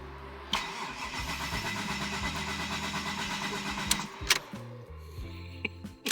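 A Toyota JZX engine cranks and catches, then runs with a rough, pulsing idle on a dyno, followed by a few sharp blips and pops, with faint voices nearby.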